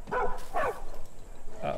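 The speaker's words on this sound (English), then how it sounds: "Don't woof at me, you did nothing." Dog barks in the Far Cry 5 video game: three separate barks with pauses between them, fairly loud and close, with no speech.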